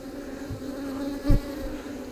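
Honey bees hum steadily around a nucleus hive frame, a close, continuous drone with a brief louder pass partway through.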